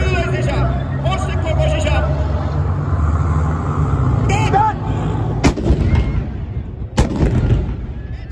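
An MCV combat vehicle fires its gun at a Japan Ground Self-Defense Force training display at Itami garrison: two loud sharp blasts ring out amid engine rumble and a crowd's murmur, with a public-address announcer speaking.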